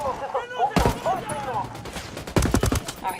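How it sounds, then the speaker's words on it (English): Loud automatic gunfire in Ghost Recon Wildlands, two close bursts of rapid shots a second and a half apart, with squad voices and radio chatter in between. "Opening fire."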